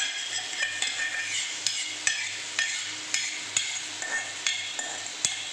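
Cooked lentils, softly broken after boiling in a pressure cooker, are stirred into telaga flour frying in a pan, with a steady scraping stir, light sizzle and several sharp spoon taps on the pan rim, close and without talk.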